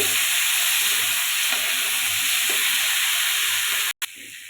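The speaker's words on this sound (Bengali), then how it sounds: "মটরশুটিটা দিয়ে দিব মটরশুটি অনেকে কড়াইশুটি বলে যার যেটা ভালো লাগে ভেজে নেবো" Green peas fry in a wok with oil, giving a steady, loud, close sizzle that runs throughout and cuts out briefly near the end.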